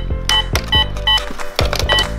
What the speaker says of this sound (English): It has a scanner with a button, so it makes scanning noise.